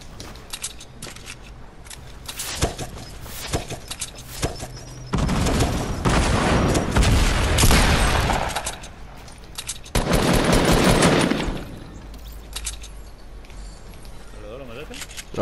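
Gunfire in Fortnite, a battle royale video game: bursts of rapid automatic shots and heavy blasts come in two loud stretches among scattered single clicks and clatter, with players talking over it.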